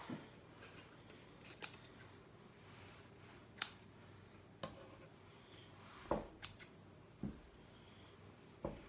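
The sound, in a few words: scissors trimming wreath mesh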